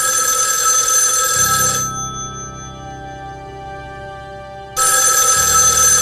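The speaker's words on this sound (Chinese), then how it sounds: "曾督察房间为什么没有人接听电话呀？" A telephone in a room rings unanswered, a loud bright bell burst, then a quieter pause with a low hum for about three seconds, then the ringing starts again.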